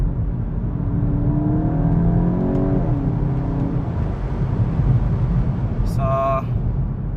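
A VW Golf 8 GTI engine revs up after a downshift on the road, a droning in-cabin engine note that rises and falls under steady road and wind noise, with brief talk over it.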